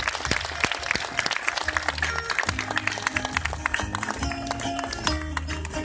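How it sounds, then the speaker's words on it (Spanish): Audience applause at a farewell event, steady dense clapping throughout with background music and a few scattered voices underneath. "Un fuerte aplauso para todos y los organizadores."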